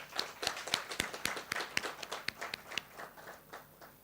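A conference audience applauds in a hall, the claps sparse and distinct at first and then thinning into a quieter patter of a few hands, all at moderate distance with no voices.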